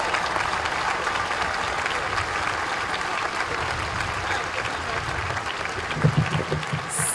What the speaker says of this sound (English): I'm gonna give us a round of applause